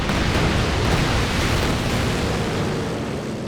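A British anti-infantry plane in a strategy video game roars overhead as a broad, steady rushing drone that stays loud throughout and eases off slightly toward the end, with no voices.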